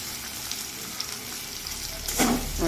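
Onions softened in oil and ghee with chopped tomatoes frying in a pan for egg and potato biryani, a low continuous sizzle with a brighter surge of hissing toward the end.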